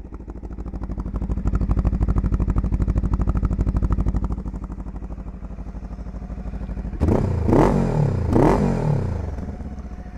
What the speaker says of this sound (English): I like the sonority of the engine.